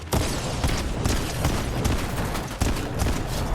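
Turret gunfire in Fortnite Zero Build, dense rapid shots in sustained loud bursts with a brief lull midway before resuming.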